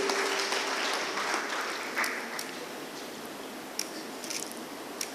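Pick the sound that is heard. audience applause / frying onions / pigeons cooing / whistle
audience applause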